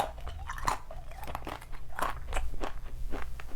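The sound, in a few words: eating a crunchy salted snack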